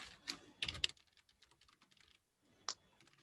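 Soft keystrokes tap on a computer keyboard in quiet, irregular bursts with gaps between them, close and faint, with no speech.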